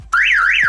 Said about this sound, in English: the alarm is now armed, so we need to wait 30 seconds before I can trigger the alarm